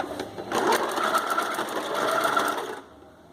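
A home sewing machine stitches a seam across a bikini cup, running in one steady, close burst of rapid needle clatter for a couple of seconds before stopping abruptly.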